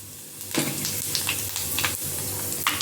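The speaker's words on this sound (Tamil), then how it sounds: "பாருங்கள், வெந்தயம் கொஞ்சம் நல்லா பொரியட்டும்." Fenugreek seeds frying in hot oil while crab masala gravy is cooked, a steady close sizzle with small crackling pops and occasional stirring clinks, no one talking.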